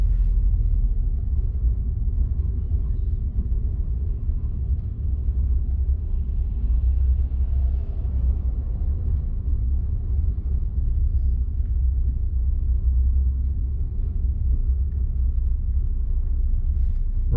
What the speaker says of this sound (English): because of this traffic